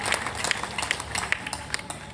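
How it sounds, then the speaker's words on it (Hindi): Audience applause at a Hindi humorous poetry gathering (kavi sammelan) in Guna, a dense patter of many hands clapping at moderate level for a couple of seconds, with no voices over it. "ताली बजाएं"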